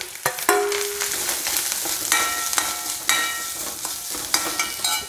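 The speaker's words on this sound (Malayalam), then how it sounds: "പിന്നെ ഞാൻ ഈ നാളികേരം ഇതിലിടാണ്" Grated coconut frying in a pan with dried red chillies, curry leaves and mustard seeds for a pumpkin and bean erissery, a close, continuous sizzle punctuated by repeated scraping stirs of a spoon.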